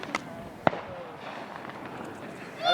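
A firework rocket bought from a Grayling fireworks shop goes off at a family picnic with a sharp bang and a whistling streak, then fainter crackle, while voices murmur in the background.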